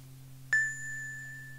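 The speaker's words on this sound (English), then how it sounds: "the cafe bell rang" A shop bell on a cafe door in a narrated children's audio story gives a single bright ding that rings on and slowly fades over a steady low hum.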